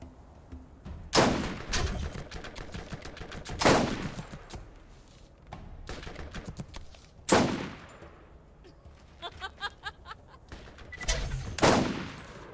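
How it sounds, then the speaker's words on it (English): Sniper rifle shots in the video game Borderlands: five sharp, loud cracks spaced several seconds apart, each with a short ringing tail, over quiet game ambience and faint chatter. "I have to try my hand at sniping"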